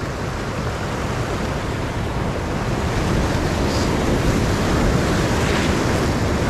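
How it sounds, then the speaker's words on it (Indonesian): Big ocean waves roll and crash along the shore at a fishing spot, a loud, steady wash of surf that fills the whole clip with broad rushing noise, with no voices. "Ombaknya besar."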